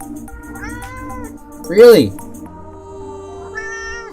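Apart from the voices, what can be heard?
cat meowing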